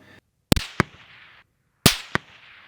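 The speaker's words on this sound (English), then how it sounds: "So we hear the snap, then we hear the boom." Two supersonic rifle shots, each a sharp, loud crack followed a fraction of a second later by a deeper muzzle boom that trails off in an open outdoor echo.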